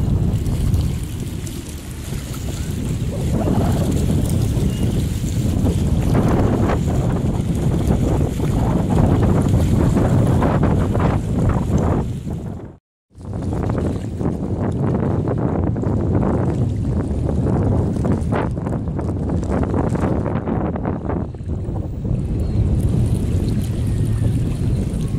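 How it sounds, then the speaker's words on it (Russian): A canoe sets off on a river in a park, with heavy wind buffeting the microphone throughout in a loud, steady rush that drops out briefly midway before resuming. "Сейчас поплывут на лодке."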